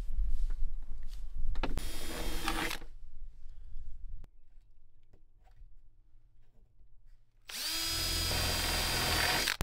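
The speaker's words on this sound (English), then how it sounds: "So I'm drilling holes in the panel where the brackets will attach to the panel" A power drill whirs in two loud bursts drilling holes in a solar panel for an RV, one short near the start and a longer sustained run at the end, with quieter clattering in between.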